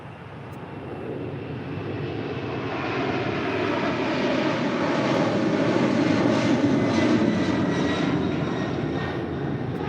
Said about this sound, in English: A Korean Air Cargo 747-400 rolling down 25 left.